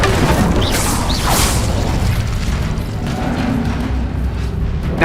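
Incendio fire spell cast in Hogwarts Legacy: a loud, close burst of fiery whooshing and crackling that flares early, then holds as a dense, rumbling roar for several seconds.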